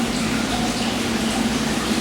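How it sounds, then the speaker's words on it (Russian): Water pouring into a small stone hot spring bath at a Japanese ryokan, a steady close-up gush and splash with a low rumbling undertone, continuous and unbroken, no talking. "Вода достаточно красиво все сливается."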